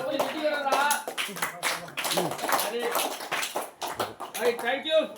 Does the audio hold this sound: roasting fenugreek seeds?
no